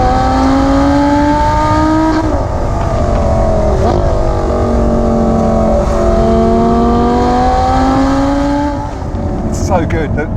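A Lamborghini Gallardo Super Trofeo Stradale with a V10 engine, driven in Corsa mode, revs hard through several rapid gear changes. Its pitch climbs, drops sharply at each shift and climbs again, loud and close throughout.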